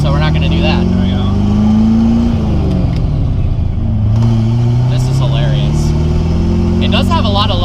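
Big-motored Rolls Royce with very low compression revving hard and loud, its engine note climbing and falling in continuous sweeps through the whole stretch.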